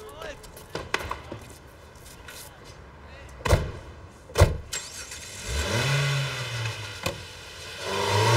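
Car doors thump shut a couple of times before the engine starts and revs, then accelerates away in a rising, steady roar.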